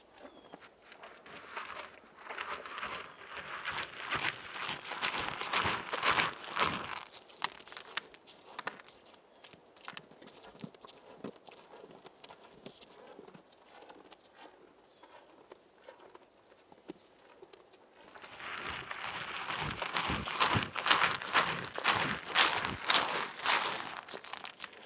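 A captured raccoon or opossum chewing right against the microphone, with crunchy, crinkly bites in quick repeated bursts, loud and close, pausing midway and then resuming.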